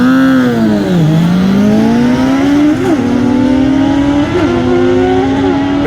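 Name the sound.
Z750 and Honda CBR motorcycles drag racing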